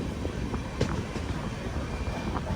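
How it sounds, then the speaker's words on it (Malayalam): Train arriving at Alappuzha railway station, heard from aboard a Netravati Express sleeper coach, a steady loud rumble with rhythmic clattering of wheels over the track. "ട്രെയിൻ ഇതാ ആലപ്പുഴ റെയിൽവേ സ്റ്റേഷനിലേക്ക് എത്തിക്കൊണ്ടിരിക്കുകയാണ്"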